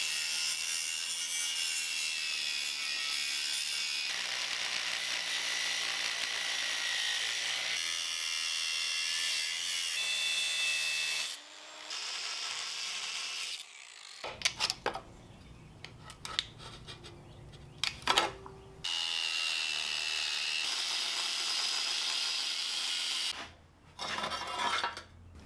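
A rocket stove's metal fuel magazine is cut apart at the weld, giving long, loud, steady grinding and cutting passes broken by brief pauses and clanking handling noises.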